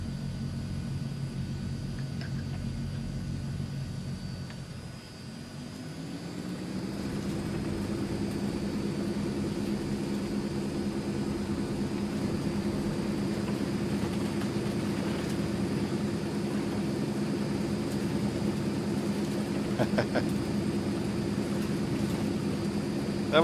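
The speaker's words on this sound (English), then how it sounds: "That was a sweet one. Sweet takeoff." A Transall C160 twin-turboprop cargo plane in Microsoft Flight Simulator drones steadily, with a brief dip and then a rising, sustained engine hum as it throttles up and takes off, continuous and close.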